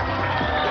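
A brief burst of studio audience applause and cheering at a televised Killer Instinct video game tournament show. It is loud and dense, with crowd noise and whoops packed together for under a second.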